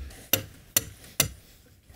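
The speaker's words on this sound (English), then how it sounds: "So I'm going to start with the sledge and then come in with a smaller hammer." Sledgehammer driving rebar for an outdoor chicken run, three sharp metallic strikes at an even pace, each ringing briefly before the next blow.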